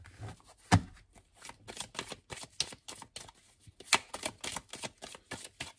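Tarot cards being shuffled before a draw, a run of quick papery riffles and soft slaps in irregular bursts, close and crisp with no voice over them.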